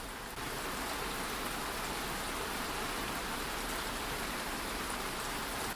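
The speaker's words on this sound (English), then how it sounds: "The sound of rain on my roof is like natural music." Steady, gentle rain pattering on a roof, a continuous soft hiss with no voices or other sounds.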